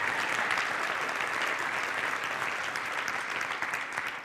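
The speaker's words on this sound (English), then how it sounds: "Give Noah another round of applause." Sustained crowd clapping from an audience at a product marketing debate, thick and even with no gaps, holding steady before tapering a little at the close.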